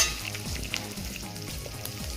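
Meat fries in a pan with no oil added, a soft, steady crackling sizzle close by with a few scraping stirs and small pops, quiet and without talk.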